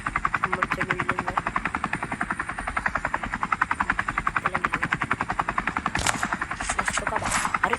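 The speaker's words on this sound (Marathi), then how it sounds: "भावानी हेलिकॉप्टरलाच ठोकला" A helicopter's rotor thumps in a fast, even rhythm throughout a Scarfall 2.0 game battle, loud and close, with sharp bursts of gunfire cracking over it toward the end.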